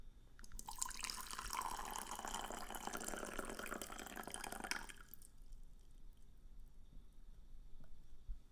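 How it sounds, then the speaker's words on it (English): Puerh tea from the first infusion poured quickly into a vessel, a bright splashing stream for about four seconds that stops abruptly, followed by quiet room tone with faint drips. "And the first infusion, we can pour out the tea quite quickly."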